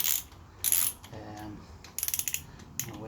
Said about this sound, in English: so you definitely need your torque wrench